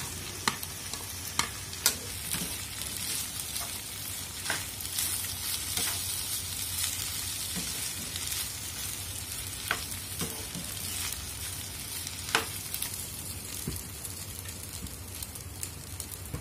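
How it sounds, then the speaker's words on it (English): Rice and vegetables are stir-fried in a pan, with a steady sizzle throughout and repeated scraping taps of a utensil stirring the food, close and fairly quiet. "Then add rice to the pan and mix with vegetables."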